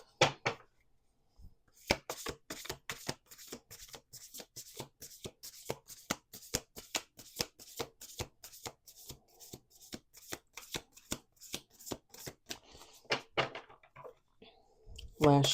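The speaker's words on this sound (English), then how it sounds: "Let's do 2 more shuffles." A deck of oracle cards being shuffled by hand on a table, producing a long run of rapid, crisp riffling flicks in steady rhythm, close and fairly loud, with a short pause before the shuffling starts.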